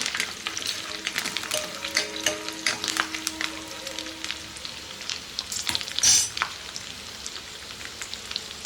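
Green chilies and curry leaves fry in hot oil, a crackling close sizzle with sharp pops and occasional stirring scrapes, one louder burst near the middle, no voices.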